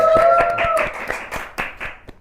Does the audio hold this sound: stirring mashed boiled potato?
no